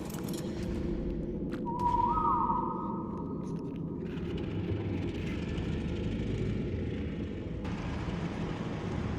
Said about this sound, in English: Now I'm gonna whistle them.